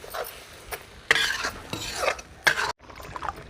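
Stirring and scraping of tomatoes cooking with spices in a pan, with utensil clatter and a faint sizzle, in short bursts separated by brief pauses.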